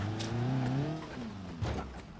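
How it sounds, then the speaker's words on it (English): A car in the BeamNG driving game accelerates at full throttle, its engine note climbing and then dropping as it shifts, followed by a renewed rise, loud and close. "So that means high range and just floor the shit out of the car."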